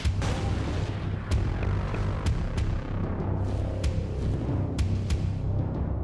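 Nuclear missile blast in Command & Conquer: Red Alert 2, a dense rumbling roar that rolls on for several seconds, dotted with sharp cracking bursts and booms from the destruction.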